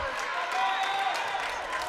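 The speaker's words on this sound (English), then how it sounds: "crowd is into it right now" A high school volleyball crowd on senior night cheers and applauds in a sustained, steady roar of clapping and voices, with no breaks.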